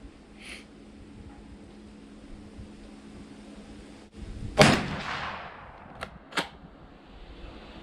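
A Savage 212 shotgun fires outdoors: one loud sharp blast with a long rolling echo, followed by two brief clacks of the bolt being worked, with no talk.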